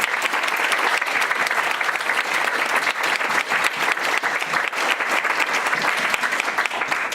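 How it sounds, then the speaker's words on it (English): An audience at an evening lecture applauds steadily, a dense, close round of clapping that holds for several seconds with no speech over it. "I'd like to give Ken a big round of applause."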